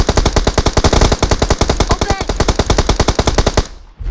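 Automatic gunfire sprays in PUBG Mobile, a long rapid burst of evenly spaced loud shots hammering for several seconds before cutting off abruptly into near silence.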